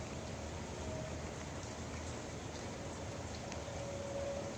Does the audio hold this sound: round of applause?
no